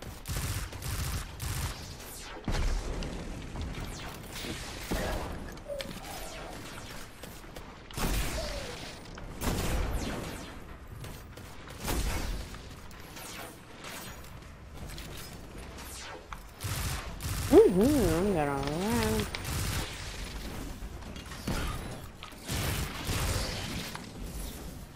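Boot cannon in a video game firing in scattered bursts of sharp blasts and booms, some clustered and some spaced apart, loud against a quieter background.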